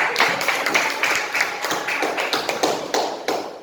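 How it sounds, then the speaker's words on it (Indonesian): A classroom group claps together in a quick run of sharp, evenly spaced hand strikes, close and fairly loud, with no talking over it. "Oke, tepuk tangan buat kita semua."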